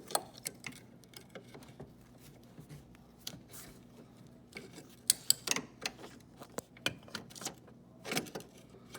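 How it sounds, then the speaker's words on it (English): Small wrench loosening screws while taking out a dishwasher stuck under a countertop: scattered faint ticks and metallic clicks, with a brief burst of sharper clicks near the middle and again near the end. "You're gonna use a little wrench for this."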